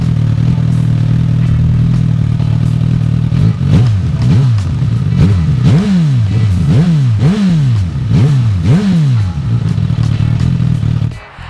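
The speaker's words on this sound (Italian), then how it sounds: "il sound dello scarico, progettato proprio per esaltare ancora di più le prestazioni del motore" A Suzuki GSX-S 1000 naked sport motorcycle idles with a deep, steady exhaust rumble, then revs sharply in a series of loud, rhythmic throttle blips, close by and with no talking.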